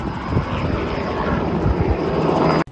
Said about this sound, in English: tourists get on a helicopter like this and they fly out over the state park